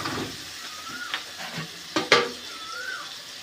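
Onions frying in a generous amount of oil, stirred in a pan: a soft, steady sizzle with a couple of sharper clinks and scrapes from the spoon near the middle, fairly quiet and with no talking.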